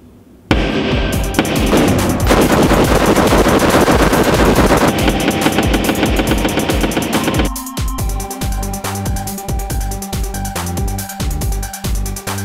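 A magazine-fed gun fires rapidly at a 100-yard indoor rifle range: a dense, loud burst of shots for several seconds, then slower individual cracks ringing through the enclosed space.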